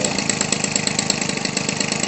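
A Weedeater Featherlite 21cc two-stroke gas engine, fitted with a Zama 13 mm carburetor and a new diaphragm pump for RC use, runs steadily at close range with a loud, constant high-pitched buzz and no talking.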